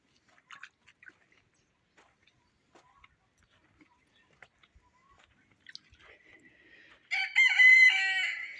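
A rooster crows loudly near the end after several seconds of faint scattered clicks and rustles.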